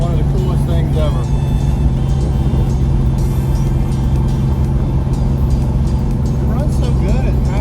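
A 1969 Dodge Charger R/T SE V8 rumbling steadily while driving, a loud continuous low engine drone throughout with a person talking over it.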